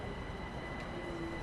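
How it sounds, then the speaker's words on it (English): A class 378 train pulling into a platform in the Train Sim World 6 game, a steady low rumble of rolling carriages with a faint high tone, continuous and moderately loud with no speech. "That's the train arriving anyway."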